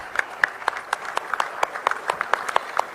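Audience applause at the trophy display ceremony of the 134th Durand Cup, a steady patter of many hands clapping with sharp individual claps standing out, moderately loud and continuous throughout.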